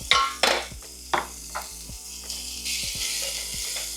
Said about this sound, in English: The pot is nice and hot. I'm now going to drop the bacon in.